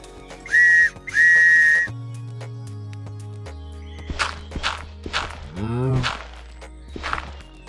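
A whistle blown twice in short, sharp bursts, loud and close, followed by scattered footsteps and light knocks in a quiet room.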